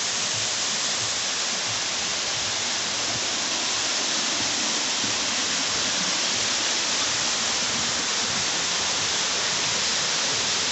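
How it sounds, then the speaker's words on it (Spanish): The Siloé waterfall pours in a dense, steady roar of falling water, loud and unbroken from start to finish with no voices. "La hermosura de la Cascada de Siloé."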